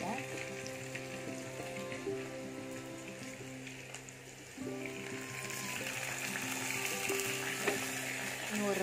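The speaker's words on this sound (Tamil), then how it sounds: "இந்த ஆயிலில் இந்த மாதிரி கொஞ்சம் கொஞ்சமாக போட்டு ஃப்ரை பண்ணி எடுக்கணும்" Onions frying in hot oil, added a little at a time and browned to golden for prawn biryani, giving a continuous close sizzle and crackle with faint tonal sounds running in the background.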